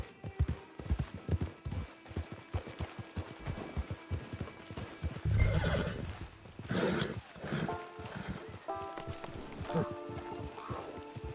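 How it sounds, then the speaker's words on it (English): A horse in a video game clops along with steady hoof beats on the ground, then lets out a louder whinny and snorts midway before the clopping continues with some clanking tack. "It's your horse."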